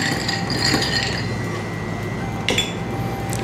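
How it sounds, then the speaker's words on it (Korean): A spoon stirring coffee in a glass for Vietnamese egg coffee, close metallic clinks and light scraping against the glass, with a sharper clink near the end. "이제 위에다가 액을 올릴 거니까 한번 이렇게 살짝 잘 저어 주시고"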